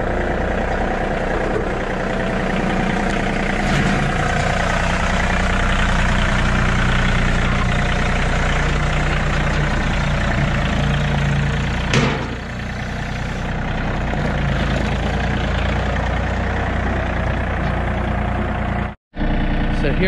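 A John Deere 3025e compact tractor engine runs steadily throughout at a near, constant rumble, with a brief dip near the end.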